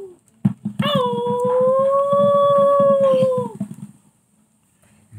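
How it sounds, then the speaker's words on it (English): A dog howls at night in one sustained, steady, mournful note lasting a few seconds, loud and near, with faint rumble beneath and quiet after it fades. "Certain dogs howl."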